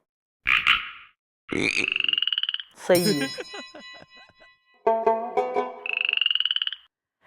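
A person imitating a frog, giving several loud, close, croaking bursts in a rough, rhythmic sequence, with a brief spoken phrase among them.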